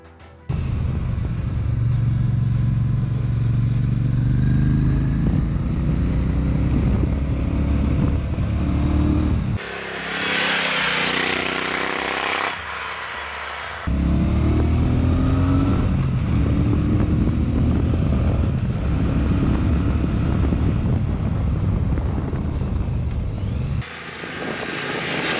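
A Brixton Cromwell 1200 motorcycle ridden on small roads around Lyon, its engine droning steadily under loud wind rush, dipping briefly mid-ride before pulling strongly again.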